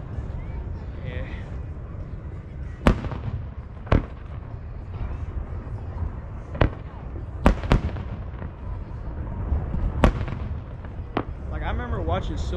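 Fourth of July fireworks burst over Big Bear Lake, California, a string of sharp booming cracks at irregular intervals with crackle between them, heard at a distance while people chat nearby.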